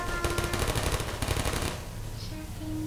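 Portal turret fire sounds as a fast, loud machine-gun-like rattle for a second and a half, then cuts off, leaving quieter ambient tones and a faint short chirp.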